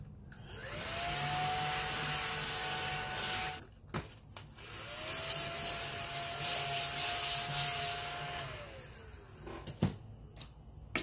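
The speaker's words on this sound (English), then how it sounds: "I can just vacuum up all these little things." A small ladybug-shaped handheld vacuum runs in two long bursts, its steady motor whine rising and falling as it sucks up small craft debris at close range, with scraping and rubbing noises between the passes.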